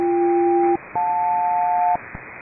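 Aircraft SELCAL selective calling tones received over HF radio: two steady paired tone bursts, the first about three-quarters of a second long, then a brief gap and a second pair lasting about a second, clear and loud against faint static hiss.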